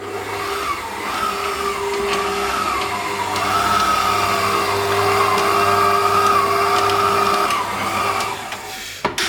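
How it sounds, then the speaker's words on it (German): A dough kneading machine working noodle dough for hand pulled noodles, a steady motor hum with a whirring, slightly wavering drone that runs evenly and fairly close before stopping abruptly at the end. "indem man es halt einfach nochmals in die Knetmaschine wirft und hier nochmals bei 10-15 Minuten hier durchkneten lässt"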